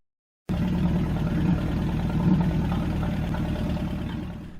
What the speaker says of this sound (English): I was ready to go ahead and test the engine once again to see if we had fixed the oil leak.